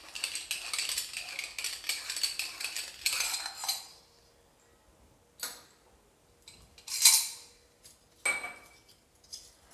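A metal sev maker is greased with oil, its parts clattering and scraping in a burst of close metallic rattling, followed by a pause and then a few scattered sharp clinks and taps, with no talking.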